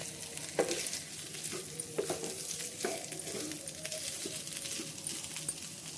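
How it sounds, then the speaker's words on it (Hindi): Mashed potato mixture is stirred in a frying pan for samosa filling, with a soft continuous sizzle and irregular scraping strokes of a spoon against the pan, fairly quiet with no talking. "भूनने के बाद अब इसमें मैश किया हुआ हम आलू डाल देंगे। और इनको अच्छे से हम मिक्स करते हुए चला लेंगे।"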